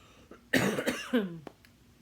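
A single harsh cough bursts out, followed by a shorter throaty cough and a faint click, close up with no speech.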